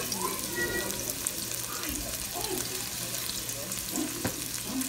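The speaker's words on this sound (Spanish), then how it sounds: "Se sofríe el ajo junto con la cebolla." Garlic and onion frying together in hot oil for a shrimp broth, a continuous soft sizzle with faint stirring, close, with indistinct voices murmuring underneath.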